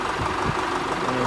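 A Ford tractor diesel engine idles steadily while warming up, a continuous low rumble with knocking texture, fairly loud and close, with wind noise over it.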